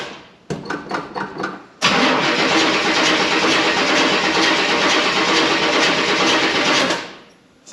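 A vintage 1930s car engine, either a 1937 Buick or a 1931 Ford Model A coupe, cranks with several starter turns, then catches and runs loud and steady for about five seconds before cutting off.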